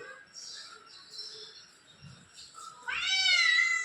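A pet cat lets out a clear, drawn-out meow near the end, close and fairly loud, after a quieter stretch of soft indoor background sound.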